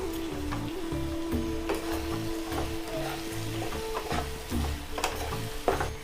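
Softened onions are stirred as they fry in a pan, with a constant close sizzle and repeated scraping and tapping strokes at an uneven rhythm. No one speaks.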